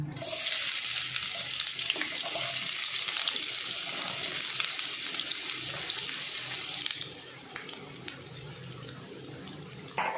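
Onion hitting hot oil already seasoned with curry leaves and two red chillies, a steady broadband sizzle that runs loud for several seconds, then settles to a quieter, even frying hiss.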